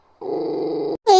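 A close, loud dog growl holds steady for most of a second, then breaks into a sharp single bark.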